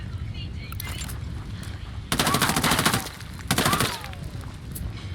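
Automatic gunfire crackles in a Ghost Recon Wildlands firefight against Sicarios: two dense, loud bursts of rapid shots, close by, over steady background game noise.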